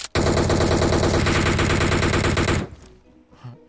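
Loud, dense automatic gunfire from a PUBG match fires in a sustained rapid burst for over two seconds, then cuts off to quieter game ambience.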